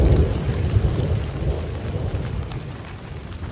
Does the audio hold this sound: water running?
no